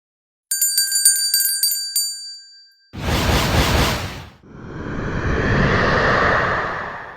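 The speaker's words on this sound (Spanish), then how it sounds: "el examen daría inicio en cuanto suene la campana" A bell rings several times in quick succession to signal the start of an exam, bright and ringing, followed by two loud broad whooshing, rushing bursts.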